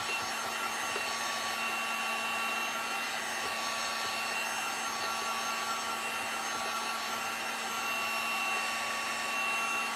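A hair dryer blows continuously on freshly washed sea shells for a craft project, a loud, steady whooshing whine that holds unchanged throughout, close up with no voices.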